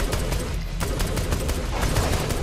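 Dual pistols fire in Saints Row: The Third, a dense, continuous volley of overlapping gunshots filling the whole stretch, loud and steady with one brief dip.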